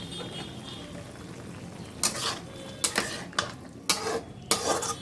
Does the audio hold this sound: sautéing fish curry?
yes